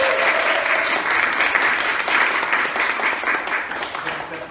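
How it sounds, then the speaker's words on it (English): A panel audience applauds the two Triple Step Studios co-founders at a swing dance event, a dense, steady round of clapping that holds loud throughout and tapers slightly at the end. "So maybe let's give them a round of applause."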